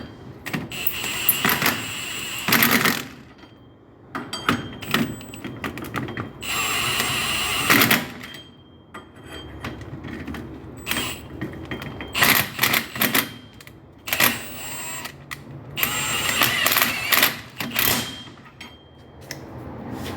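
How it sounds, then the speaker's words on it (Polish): Impact wrench gently snugging wheel bearing bolts on a Toyota Prius, short rattling bursts of hammering separated by pauses, close and loud with no talking. "I w tym momencie biorę, dokręcam je delikatnie pistoletem"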